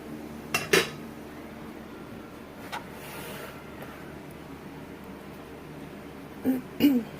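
A utensil scoops drained vegetables back into a pot of chow chow, making a few sharp metallic clinks near the start and again near the end, with quiet stretches between.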